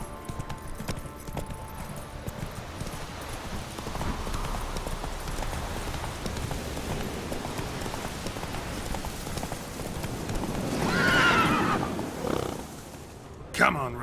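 A horse in the Witcher 3 video game clip-clops along at a steady gait through a rainy backdrop, its hoofbeats close and continuous, before a loud whinny rises near the end and someone speaks briefly.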